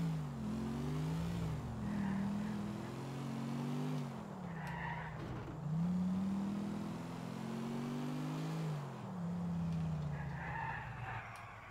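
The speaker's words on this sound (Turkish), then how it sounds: "Hala şey kullanıyorum, Roman'ı, kaçırdığımız arabayı kullanıyorum." A stolen car driven in GTA 4 with a steady engine drone that rises and falls between gear shifts, with occasional tire skids, loud and continuous, no talk.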